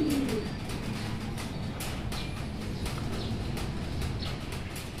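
Racing pigeons coo softly in a loft, low murmuring calls over a steady background with faint taps and rustles and no voices.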